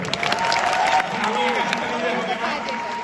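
Audience applause and cheering at the Meril Prothom Alo award ceremony, a dense sustained wash of clapping from a large crowd, steady and fairly loud throughout with a faint tonal hum underneath.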